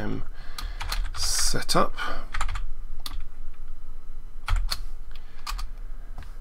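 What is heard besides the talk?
typing on a computer keyboard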